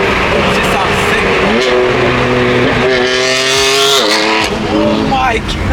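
A loud BMW F80 M3 exhaust revs repeatedly, pitch climbing and dropping with each throttle blip, close by and continuous, with people chattering underneath.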